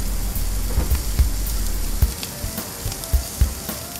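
Seasoned beef tri tip sizzles steadily on a hot cooking surface, a loud continuous hiss and crackle broken by several thumps as the meat is flipped.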